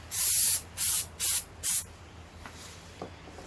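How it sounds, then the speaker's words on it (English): Four quick bursts of cleaner sprayed from a bottle onto a mountain bike suspension fork, loud and close, each about a third of a second, followed by quiet room tone. "Just give it a nice spray down."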